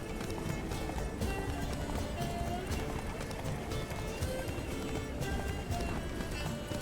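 Horse hooves galloping in The Witcher 3, a fast, steady clip-clop rhythm running continuously over an in-game music bed, close and moderately loud throughout.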